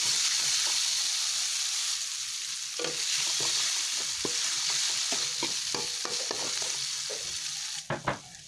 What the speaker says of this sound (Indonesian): Tumis bumbu sampai harum dan tanak ya, supaya tidak bau langu. Sesekali kita aduk supaya tidak gosong.